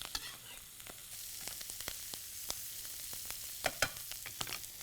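Shaved Brussels sprouts hit hot bacon fat with cooked shallots, giving a bright, steady sizzle. Sharp crackles and pops are scattered throughout, with a few louder spits toward the end.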